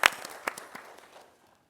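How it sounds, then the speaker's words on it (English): A handful of scattered claps at a city council meeting, brief and fairly close, thinning out within about a second and a half. "I think we should all give them a round of applause for what they did"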